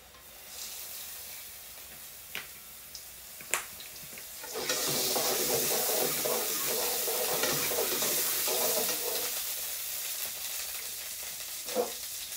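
Oil heating in a frying pan for a meat curry cooked with watermelon, with a few soft clinks before a steady close sizzle rises and holds, ending with one sharp metallic knock; no talking.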